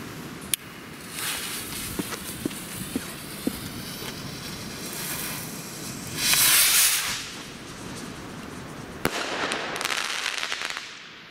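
Xplode Sky Busters XPE2782 firework rocket from a budget rocket assortment launching outdoors: a loud rising hiss and whoosh around the middle, scattered crackles and distant bangs from other fireworks before and after, no talking.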